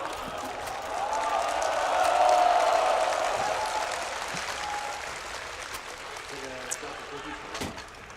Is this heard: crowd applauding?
yes